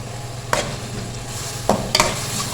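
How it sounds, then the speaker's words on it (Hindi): Ground cumin, ground dried coriander and chili powder roasting in a pan while being stirred, a low continuous sizzle broken by three sharp spoon scrapes and clicks against the metal. "अब इनको अच्छी तरह भूनेंगे"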